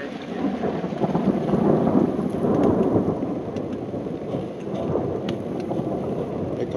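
Thunderstorm with steady rain drumming on a tent during a kayak trip, a continuous loud wash of rainfall with deep rolling thunder swelling and fading throughout, no voices.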